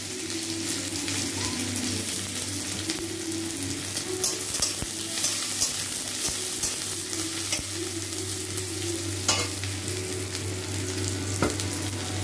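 Chopped onion and garlic with black cumin seeds and slit green chillies sizzle steadily in hot oil, a loud continuous crackling fry with occasional stirring scrapes and a low background hum.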